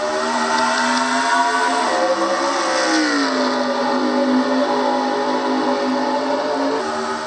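Racing video game with stock cars at Dover accelerating from the green flag start, a dense, loud, continuous engine roar whose rising and falling pitch sweeps as the pack speeds up together, with no talk over it.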